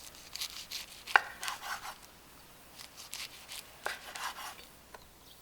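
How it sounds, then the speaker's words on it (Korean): A knife cuts through gimbap rolls of Jeju-style rice and fillings with fried tofu skin on a board, giving a string of close, crisp chopping strokes, one sharp louder chop early, then lighter irregular cuts and faint rubbing. "한 입에 쏙 들어갈 굵기로 썰어준다."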